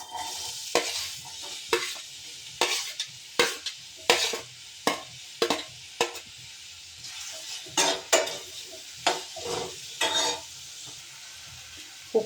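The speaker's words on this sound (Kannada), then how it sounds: "ಇವಾಗ ನಾನು ಈರುಳ್ಳಿ ಹಾಕ್ಕೊತಾ ಇದ್ದೀನಿ." Onion frying in hot oil in a pan sits under repeated stirring, with a spoon or spatula scraping and tapping in irregular bursts above a soft, faint sizzle.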